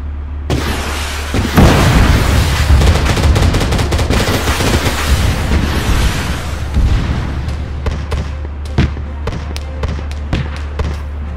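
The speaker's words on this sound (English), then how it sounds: "All we can do is shoot from here." Sustained automatic gunfire in the military shooter Arma 3, a dense loud roar of rapid shots giving way to sharper, spaced single cracks and short bursts over a steady low hum.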